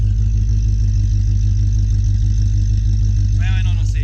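An Aston Martin Vantage engine gives a loud, deep, steady burble close by, its rumble compared to a Riva boat, with a brief voice rising over it near the end.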